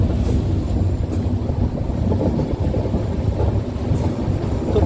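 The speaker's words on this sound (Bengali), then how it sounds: "আবার ট্রেন ছেড়ে দিল রাজা ভাতখাওয়া স্টেশন থেকে" A train pulls out of Rajabhatkhawa station heading into forest on the Kamakhya to Siliguri line, a loud, close, continuous rumble with rattling wagons and faint squeals of wheels on rails.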